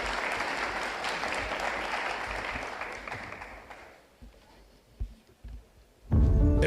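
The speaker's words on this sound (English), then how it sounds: "could we give them a round of applause?" Audience at a veterans' summit applauding panelists, a dense wash of clapping for about four seconds that fades out, followed by quiet and the start of music.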